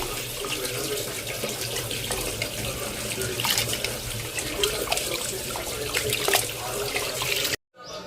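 Tap water runs steadily into a bowl of rice set to soak for vegetable biryani, a continuous close splashing stream that stops abruptly near the end.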